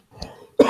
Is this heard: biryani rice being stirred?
no